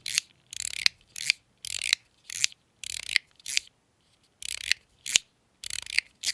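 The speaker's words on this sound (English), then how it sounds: "it's a fun, up and down push slider" Binary Star mechanical push slider snapping up and down in quick repeated strokes, each a crisp close metallic rasp, with short pauses between bursts.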